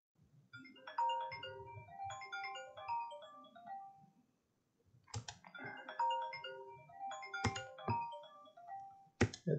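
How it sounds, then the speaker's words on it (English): Mobile phone ringing nearby with a bright melodic ringtone, two bursts of chiming notes separated by a short pause, with a few sharp clicks in between, no talking. "My phone is ringing."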